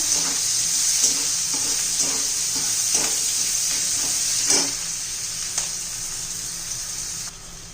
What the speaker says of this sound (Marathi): कांदा घालून द्यायचा आहे कांदा छान परतून घेऊया आपण